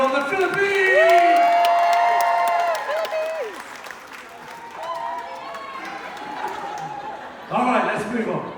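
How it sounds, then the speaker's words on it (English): An audience aboard the Royal Caribbean Grandeur cruise ship bursts into loud applause and cheering that swells, eases off, then rises again briefly, with some talk mixed in. "Big round of applause, everyone."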